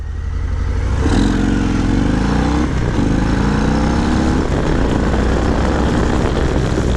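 A 2020 Harley-Davidson FXDRS cruiser rides along with a loud, close engine drone and heavy wind roar. The pitch rises and falls through gear changes, with no talking over it.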